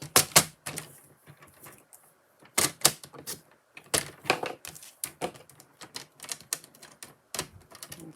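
Scissors snipping paper to trim a piece for a handmade fold card, a quick run of close, crisp cuts coming in bursts with short pauses between them, no voices.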